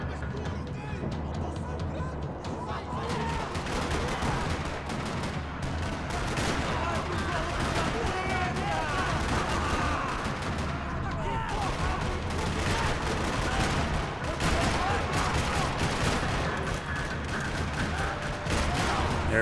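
Dense, continuous gunfire from the video game Max Payne 3, with rapid overlapping shots and bursts at steady loudness throughout and no clear pauses.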